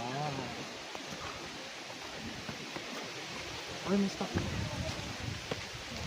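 Wind on Mt. Kapigpiglatan in Zambales blows in a steady broadband rush, buffeting the microphone throughout, while people talk now and then beneath it.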